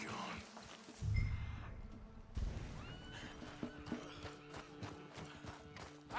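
Horses in the Red Dead Redemption 2 video game whinny loudly at the start, then hooves thud and clip-clop in a quickening run at moderate distance, with no talk.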